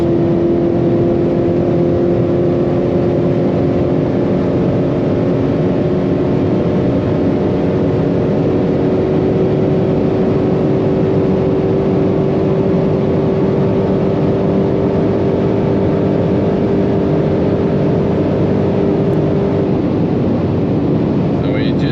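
A 751 HP Dodge Charger Hellcat drives at very high speed with the whole car shaking, giving a loud, steady engine and road roar with rushing wind throughout. A voice speaks faintly under it.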